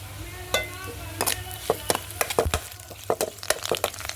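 Onions and curry leaves fry in a pan over a wood-fired stove, giving a soft steady sizzle broken by repeated sharp crackles and pops scattered through the whole stretch.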